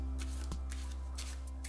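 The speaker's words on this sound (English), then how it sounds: "Another alternative is to shuffle in blocks, but to just apply pressure with the thumb." Overhand shuffle of a deck of playing cards done in blocks with thumb pressure, giving several soft papery riffling bursts close by at an uneven rhythm over a steady low hum, with no talk.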